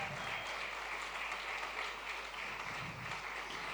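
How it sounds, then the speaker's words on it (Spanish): A church congregation gives a steady round of applause as the teenagers are welcomed to the front, the clapping even and fairly faint throughout. "Vamos a darle un aplauso"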